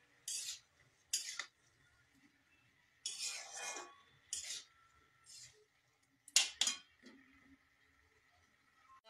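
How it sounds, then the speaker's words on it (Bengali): A spoon or spatula scrapes and clinks in a pan as finely chopped radish is stir-fried with spices, in several short separate bursts with quiet gaps between them. "তো ভালো মতো এটাকে আমি কষাবো, যাতে মূলাটা কুচি কুচি করে কেটে যে দিয়েছি সেটা সেদ্ধ হয়ে যাক"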